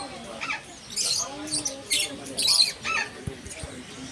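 Several short, shrill bird squawks and chirps come in quick bursts, recorded close by on a Xiaomi Redmi Note 14 5G phone's front camera, with voices murmuring faintly underneath.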